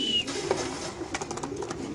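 A female racing pigeon in a cage coos softly nearby, low murmuring calls over background noise and light clatter, with no talk.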